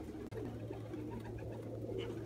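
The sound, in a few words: pigeons cooing at dusk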